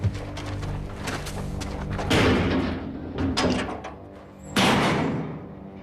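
A door is shut and locked in a tense confrontation, with several heavy thuds and slams spaced across a few seconds, close and fairly loud, with no talk over them.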